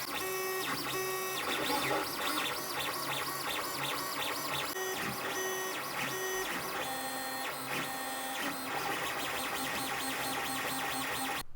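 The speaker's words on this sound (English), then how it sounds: "This piece is going to be printed in NinjaFlex rubber on my second extruder on my Lulzbot TAZ." Lulzbot TAZ 3D printer printing a part in NinjaFlex flexible rubber on its second extruder: continuous whining stepper-motor tones that shift in pitch in quick bursts, steady and close with no voices.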